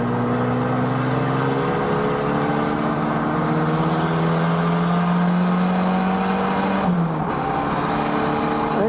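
An Exocet tube-frame kit car built on a Mazda Miata holds a loud, sustained high-rev engine drone with rising pitch, dips briefly as it shifts around seven seconds, then climbs again.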